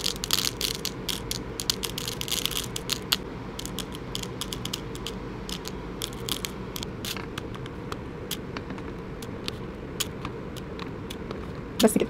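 Plastic beads being handled and sorted by colour for bracelet making, a long run of dense, irregular small clicks and rattles, close up, busier at first and sparser later, with no clear speech.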